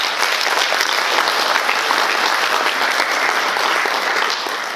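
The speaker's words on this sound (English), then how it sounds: "I'm assuming most people are clapping hands" An audience at an agile conference talk claps loudly and continuously, a dense, even wash of applause from a crowd that tapers slightly near the end.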